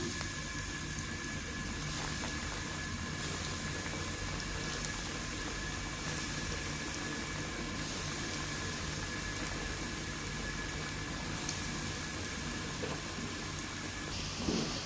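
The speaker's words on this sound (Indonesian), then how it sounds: "Dan di sini sudah saya panaskan minyak, ini saya goreng." Flour-coated tofu pieces fry in hot oil, a continuous dense sizzle and crackle that holds steady and close for the whole stretch, with no talking over it.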